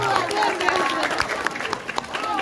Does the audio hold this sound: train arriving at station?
no